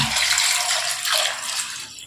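Water poured from a vessel over chopped tomatoes, large onions and green chillies in a cooking pot, a steady close splashing pour lasting about two seconds and tapering at the end.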